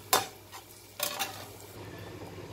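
Egg and mushroom frying in a pan give a soft, quiet sizzle, cut by a sharp utensil scrape near the start and a cluster of stirring clatters about a second later, with no talk.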